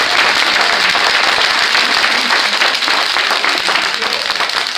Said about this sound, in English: yes, you can give a round of applause for that